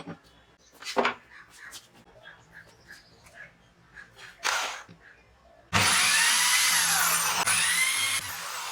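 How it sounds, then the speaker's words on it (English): A power drill pre-drills and drives screws into wood for a clamped corner joint: scattered short taps and brief whirs, then one long, loud, continuous drilling run near the mic. "Pre-drilled and countersunk the holes, and then put the screws in"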